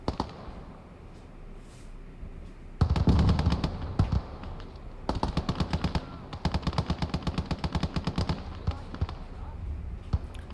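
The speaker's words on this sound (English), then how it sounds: "So we got an MG42 set up on the logs there" MG42 machine gun from the WWII game Gates of Hell: Ostfront, firing in rapid rattling bursts, one short volley followed by longer sustained strings of shots, loud and close against battlefield ambience.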